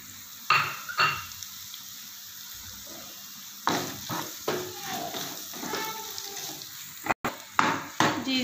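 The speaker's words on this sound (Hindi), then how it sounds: "ये सारी चीज़ें हम इसमें मिला लेते हैं।" Spices being stirred into a macaroni pasta mixture in a pan, giving scattered scraping and clinking strokes of a spoon against the pan at close range, with faint kitchen noise between them.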